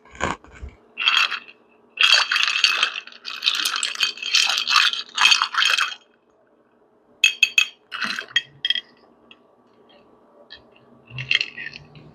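Ice cubes rattling and clinking in a glass while an Old Fashioned cocktail with Evan Williams bourbon is mixed, several bursts of close, bright rattling with short pauses between them, then quieter scattered clinks near the end.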